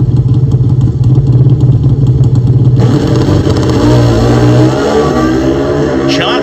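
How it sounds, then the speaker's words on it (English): Buell pro stock drag motorcycle with a V-twin engine roars loudly at a drag strip, the rumble holding then rising in pitch as revs climb, mixed with another engine's drone. "Buell with its rumbling V-twin engine."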